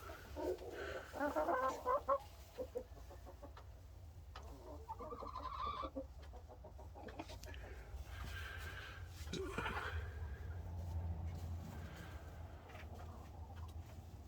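Brahma hens cluck and squawk in short bursts near the start, then quieter murmuring clucks continue over a low background rumble.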